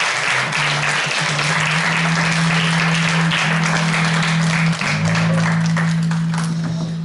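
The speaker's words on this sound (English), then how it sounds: "Let's give another round of applause for Angie over there." Loud audience applause at a live comedy show, dense steady clapping filling the whole stretch over a low electrical hum.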